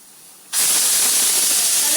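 After a brief quiet moment, a loud, sudden blast of hissing steam bursts from a pressure cooker whistle in a kitchen and holds steady.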